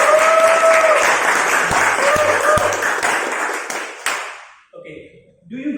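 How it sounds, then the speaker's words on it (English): An audience at a school speech event breaks into loud, dense clapping that holds steady for several seconds before tapering off, with a few voices mixed in. "Can you give us a big round of applause?"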